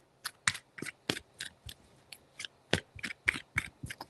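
Tarot cards being shuffled up close: a quick series of crisp riffling bursts with short pauses between them, no talking.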